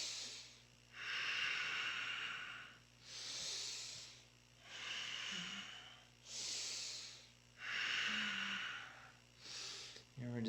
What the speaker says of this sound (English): So 1 minute, exhaling to the left, inhale to center, exhale to the right.